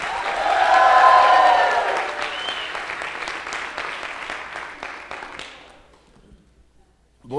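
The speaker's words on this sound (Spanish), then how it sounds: "¿Cuántos aplauden el nombre del Señor?" Spanish-speaking church congregation applauding and cheering, a burst of loud clapping and shouts that swells early, then tapers off and fades to near silence.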